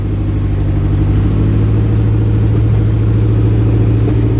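A 1967 Ford Galaxie engine idles loud and close after carburetor work, a steady low rumble with a slight rise in revs as the throttle is held open.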